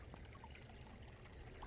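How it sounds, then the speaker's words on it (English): Water running steadily in a stream behind the house, a soft continuous rushing and trickling heard from some distance, quiet and unbroken. "Oh, I hear that water running here."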